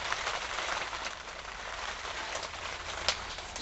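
Heavy rain drums steadily on a tarp over a raised bed at a winter wild camp, a dense, continuous hiss with a few sharper drops, close and unbroken.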